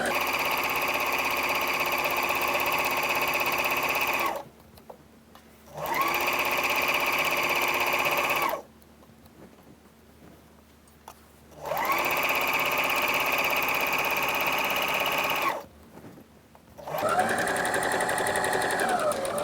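A sewing machine stitches a dress skirt seam with backstitching, running in long steady whirring bursts separated by short pauses. Loud, close and alone, the final run shifts pitch slightly.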